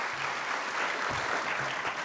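Audience applause at a county government State of the County address, a steady wash of many hands clapping at moderate volume throughout, with no voices standing out.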